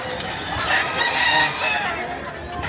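A gamefowl rooster crows at a rooster sale, one drawn-out nearby cock-a-doodle-doo of moderate loudness over clucking and faint crowd chatter.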